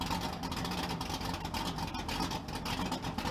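Engine of a lifted truck with a big cam, revved steadily at close range with a dense, constant roar and no pauses between blips.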